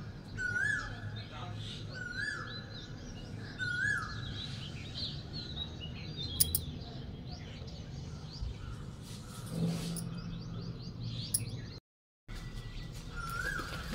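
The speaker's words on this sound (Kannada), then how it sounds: "ಇಲ್ಲೆಲ್ಲೂ ಕೋಗಿಲೆ ಕೂಗ್ತಾ ಇದೆ." An Asian koel calls outdoors in a garden setting, repeated rising whistled notes at moderate distance, under ambient outdoor noise and occasional other sounds, with a brief dropout near the end.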